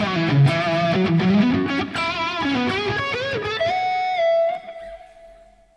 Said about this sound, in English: There's so much more distortion on here than what I normally use when I'm playing the Strat.